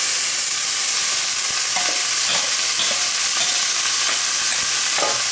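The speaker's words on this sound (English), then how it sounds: "So right in, and you should hear a sizzle." Vegetables for vegetarian fajitas sizzle loudly in olive oil in a pan, a dense constant frying hiss broken by occasional stirring scrapes, close up with no talking.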